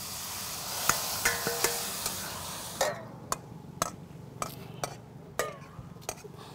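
Tomato stirred and fried in a pan gives a soft sizzle under a run of sharp spoon clicks and scrapes against the metal, close and intermittent, with the sizzle dropping away midway.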